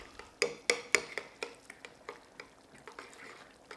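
A spoon mixing chopped basil and parsley into ricotta in a bowl, a run of sharp clacks early, then softer rhythmic scraping and tapping, close and alone.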